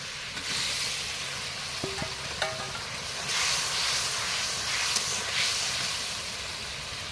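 Fried eggplant slides into a hot pan of oil for a fish curry, setting off a steady close sizzle that swells louder midway, with a few metallic clinks of a utensil against the pan.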